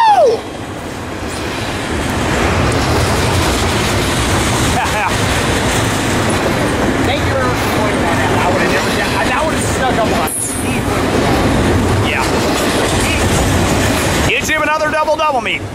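An eastbound BNSF freight train rolls past at Fullerton, a loud, close, steady rumble and clatter of railcars that continues throughout, with people talking and shouting excitedly over it.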